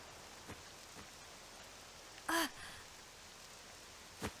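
Faint, steady rain hiss in a video game, Octopath Traveler 2, fills the background, with a sharp breathy gasp midway and a couple of soft taps.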